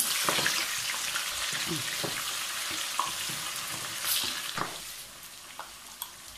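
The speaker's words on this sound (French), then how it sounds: "Et ensuite, je vais remuer le tout. Je vais un peu mélanger le tout là." Seasoned tchep blanc (Senegalese thiébou) being stirred in a frying pan: a steady broadband sizzle runs throughout, broken by scattered scrapes and clicks of a utensil against the pan, close and fairly loud, with no talking.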